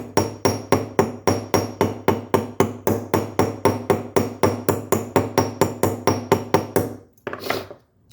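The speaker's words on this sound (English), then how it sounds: "And now I'm going to just peen the head, right?" A hammer peens the head of a metal rivet into a countersink with a steady run of about twenty-five sharp, ringing blows, close and loud, before the strikes stop and a brief softer scrape follows.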